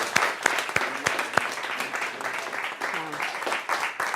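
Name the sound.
audience applause and cheering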